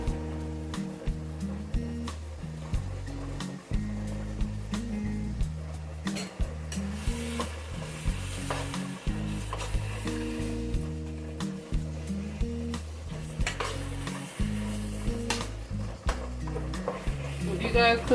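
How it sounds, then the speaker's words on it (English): Ground beef seasoned with paprika and adobo sizzles and fries in a pan while being stirred steadily, with intermittent scraping and clinks of a utensil against the pan across the whole stretch; no clear speech. "If you guys cook with ground beef, you know that it doesn't take too long to cook, but you have to keep moving it"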